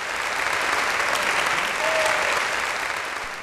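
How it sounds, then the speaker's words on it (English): Steady audience applause fills an awards ceremony hall, a dense, even wash of many hands clapping at moderate volume, with a faint voice briefly rising near the middle. "So let's applaud her,"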